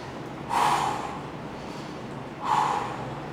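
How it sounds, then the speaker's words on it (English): Two deep, audible breaths during a hip stretch, each a loud, breathy inhale-exhale about two seconds apart against a quiet room, with no talking. "Take a few deep breaths."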